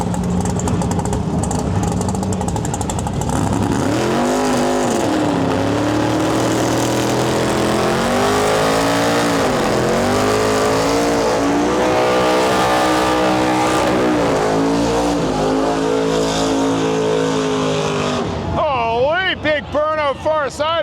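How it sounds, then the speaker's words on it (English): Drag race cars at the Rocky Mountain Nationals in Western Canada, Officers versus Outlaws, roaring continuously at full throttle down the strip, engines rising and falling in pitch, with an announcer talking over the loud noise throughout. "Now guys, right now we got a couple cars coming at us"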